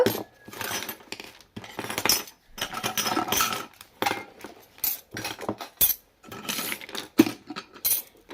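Tiny metal spoons from a miniature kitchen set clink and rattle against each other up close in quick bursts of bright jangling, separated by short silent pauses.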